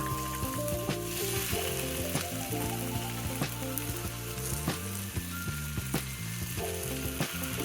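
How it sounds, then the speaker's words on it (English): Ground sausage, broken into small pieces, browns in a pot with a steady sizzle, accompanied by a continuous tonal background throughout. "with your sausage, you're going to break it up and just brown it"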